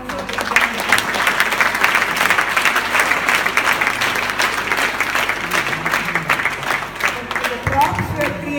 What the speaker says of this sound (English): Please give them also a big round of applause.